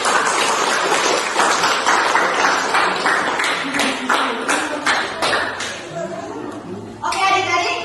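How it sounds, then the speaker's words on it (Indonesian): A small group of children and a teacher at a school ice cream lesson clap in a quick, uneven burst that fades after several seconds, with voices talking over and after it. "tepuk tangan untuk Umi Fadila"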